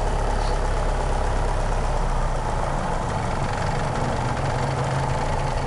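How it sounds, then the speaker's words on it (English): A 1988 Ford Escort GT engine idles steadily and fairly loud close by, a continuous even rumble with no other sounds. "as you can see, she idles fine"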